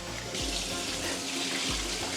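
Tap water runs steadily into a sink while rice is washed by hand, a continuous close splashing flow with brief swirling surges and no talking.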